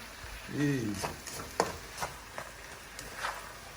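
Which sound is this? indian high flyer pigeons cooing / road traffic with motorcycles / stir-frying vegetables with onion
stir-frying vegetables with onion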